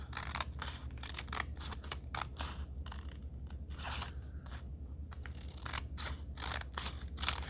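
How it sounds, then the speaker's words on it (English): Scissors snip through folded paper along the fold lines in a quick series of close, crisp crunching cuts with brief pauses between them, and no one speaks. "I'm going to cut on those fold lines."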